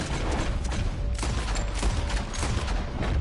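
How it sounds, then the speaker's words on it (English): Bursts of gunfire from the video game Red Dead Redemption 2 form a loud, dense stream of cracks and booms over a busy game soundscape, with no one talking. "Told you I could shoot a gun."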